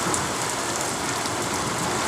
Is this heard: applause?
no